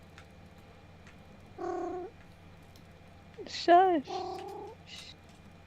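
A pet cat named Pixie gives a few short, clear meows close to the microphone, one louder and rising, over a low steady hum, with a brief hushing voice nearby.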